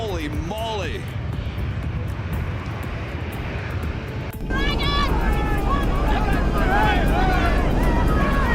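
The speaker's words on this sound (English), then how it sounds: "Just when it looks like the landing will hold, the engines erupt with thunder" Jet engines of a plane aborting its landing, surging into a loud, sustained roar halfway through after a quieter whine, with tonal sweeps and wind buffeting against the microphone; a voice is heard early on.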